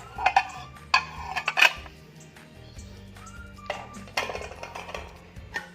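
Plates handled while laboratory equipment is laid out for a plant physiology enzyme experiment: a handful of sharp ceramic clinks and knocks come in uneven bursts, close by, with quieter clatter between them.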